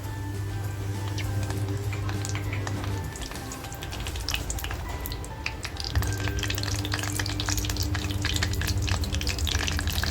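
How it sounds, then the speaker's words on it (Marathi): Whole spices crackle and fry in hot oil inside a clay handi over a gas flame, a continuous busy sizzle with scattered pops over a steady tonal hum. "तेल छान तापलेलं आहे जे खडे मसाले घेतले ते अगोदर तेलात टाकते"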